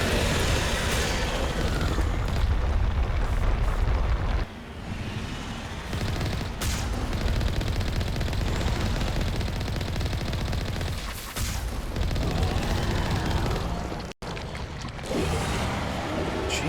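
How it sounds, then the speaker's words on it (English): Heavy gunfire and explosive blasts from a cannon in the Mass Effect 1 game, a loud continuous barrage filling the whole stretch with only brief dips and a sharp break near the end. "Fire the damn cannon"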